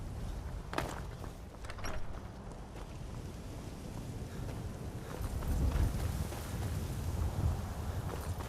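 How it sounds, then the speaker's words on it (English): Horse hooves clip-clopping at a town stable in the video game Skyrim, soft rhythmic steps under a steady wind-like ambient bed, moderately distant and fairly quiet. "Damn, that's a big horse."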